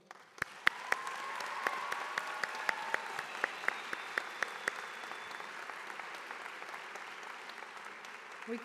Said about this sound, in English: give a round of applause to all the spouses and children and friends that have supported you along the way